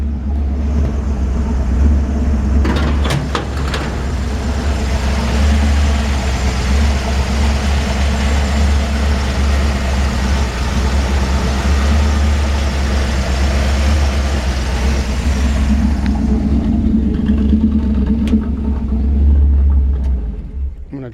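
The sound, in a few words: 1951 Ford F-1 truck rebuilt 350 V8 engine idling, side exhaust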